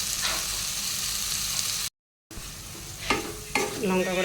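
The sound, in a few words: tomato with turmeric and chili powder being sauteed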